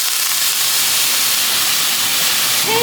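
Broccoli hitting a hot pan with olive oil and garlic makes a loud, close, continuous sizzle with a hissing wash. A faint metallic scrape comes in near the end, and no one speaks.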